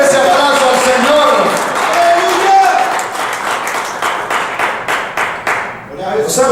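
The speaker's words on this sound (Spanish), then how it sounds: "Den ese aplauso al Señor." Church congregation applauding during a Spanish-language service, a steady wash of many hands clapping with voices and shouts mixed in, sustained throughout and thinning toward the end.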